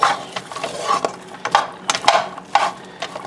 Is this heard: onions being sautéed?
yes